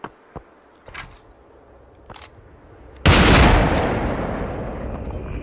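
A single loud gunshot in a video game rings out after a few faint clicks and taps, its blast decaying slowly into a lingering rumble.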